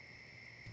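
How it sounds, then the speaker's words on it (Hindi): Phone being dialed, heard as a faint, steady electronic tone that ends in a brief louder beep, all very short. "तुम चिंटू को फोन लगाओ।"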